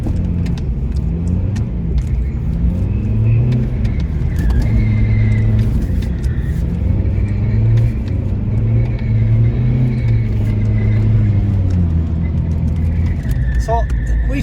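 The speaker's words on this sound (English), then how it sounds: "we can take second gear and absolutely melt the tyres off it in second gear" A drift car revving hard and spinning its tyres in second gear, a loud continuous engine roar rising and falling over the whole stretch, with people talking over it throughout.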